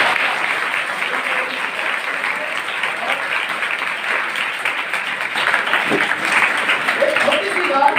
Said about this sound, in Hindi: तो मैं चाहूंगा जोरदार तालियों के साथ